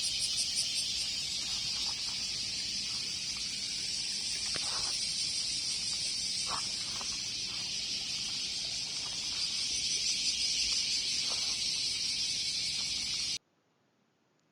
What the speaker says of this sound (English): Like there were places where we couldn't hear each other talking because the cicadas were so loud.